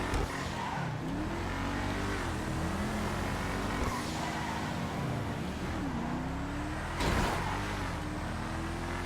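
Enus Paragon S sports car in GTA Online, its engine droning steadily at high speed with rising and falling pitch as it shifts and accelerates, plus a brief whoosh near the end, heard alone without speech.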